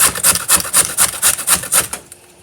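A carrot is rubbed against a grater in about nine quick, rhythmic rasping strokes, close and clear, ending in quiet.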